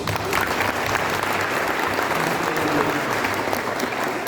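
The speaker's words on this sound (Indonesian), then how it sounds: "Tepuk tangan bagi Tuhan Yesus." A church congregation at a revival service claps together in a continuous, even wash of applause, steady and fairly loud throughout the short stretch, with faint crowd murmur underneath.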